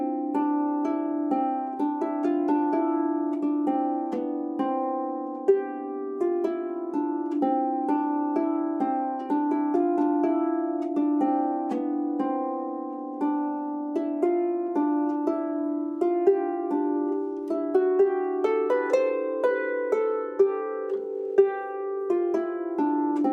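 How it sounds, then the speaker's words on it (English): A harp plays the Deck the Halls melody, a steady stream of plucked, ringing notes over about twenty-three seconds at even loudness. No talking over it. "Deck the Hall sounds like this."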